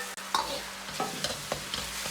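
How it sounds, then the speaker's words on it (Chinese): Sauce being stir-fried in a wok over medium-low heat with pork belly, ginger, garlic and chili, a steady sizzle broken by repeated scraping strokes of the spatula, close and alone. "保持中小火，把酱汁稍微多煸炒下，这样香味才浓郁。"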